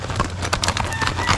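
A seven-year-old seasoned horse from the Santiago herds moves forward with steady, thudding hoofbeats. The sound is close and fairly loud, with a rough background and a faint hint of a whinny.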